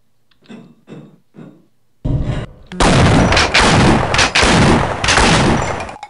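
Heavy gunfire in the shooter game Half-Life: Opposing Force: after a few soft sounds, loud sustained bursts of shots roar close and dense for several seconds, with no talk.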